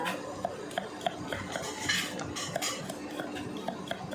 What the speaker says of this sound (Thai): มาหั่นกระเทียมกันค่ะ